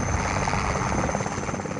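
An Indian Air Force rescue helicopter during the Gujarat floods gives a loud, steady rotor and engine roar, close and unbroken throughout.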